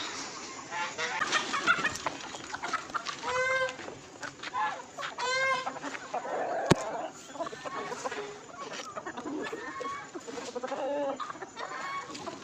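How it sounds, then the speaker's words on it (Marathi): Several chickens cluck and squawk in repeated bursts, close by, with occasional voices in the background. "कोंबड्या सोडायच्यात मला"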